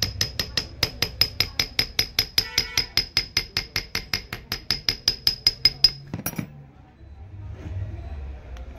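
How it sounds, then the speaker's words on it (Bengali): A metal 1000-watt motor housing is struck with a hammer to seat its magnets tightly, giving a fast, steady series of sharp ringing blows for about six seconds before stopping, followed by quieter handling noise. "টাইট করে লাগানোর জন্য এই ছাদগুলোকে পিটাই দিতে হবে একটু করে।"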